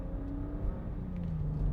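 A 2010 BMW 535i xDrive M Sport wagon accelerates on a farm road. Steady engine rumble and whir build slightly as the revs rise, heard from inside the car.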